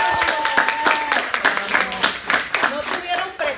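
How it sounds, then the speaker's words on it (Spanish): Audience applause and clapping at a Princess House team recruiting gathering, a few people clapping with uneven sharp hand claps and some voices mixed in over roughly four seconds. "Quiero que se den un fuerte aplauso porque están aquí."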